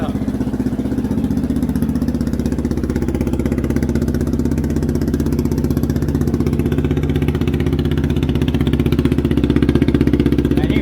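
A Yamaha Grizzly ATV, run without an air filter, just started cold with no choke and idling steadily, its engine thrumming with a loud, even, close-up chug and a slight rise in revs toward the end.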